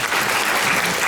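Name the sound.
audience applause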